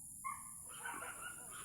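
Dogs bark at monkeys in the distance, a couple of faint yips and short barks in under two seconds against a quiet outdoor background with a high steady hiss.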